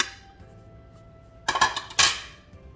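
A spoon clinks and scrapes against a bowl as salt, turmeric, chaat masala and cumin powder are mixed, giving a few sharp, close metallic taps after a quiet start.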